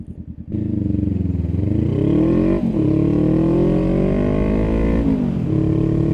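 A motorcycle engine revs loudly and close, its pitch climbing and dropping through several throttle blips with a rough, rattling idle in between.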